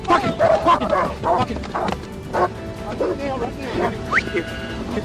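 Dogs bark and yip in rapid bursts as they fight during a police arrest at a car, with people shouting loudly over the commotion throughout.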